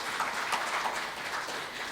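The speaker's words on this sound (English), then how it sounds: "Please give a huge round of applause for our dignitaries." A conference audience at a steam technology event applauds its dignitaries, a dense, steady wash of clapping from many hands for a couple of seconds.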